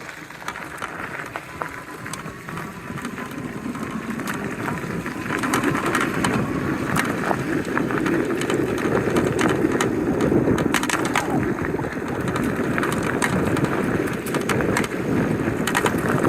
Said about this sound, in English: It does have a little bit of rattle coming from that battery in there.